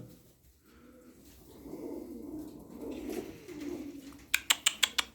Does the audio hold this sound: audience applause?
no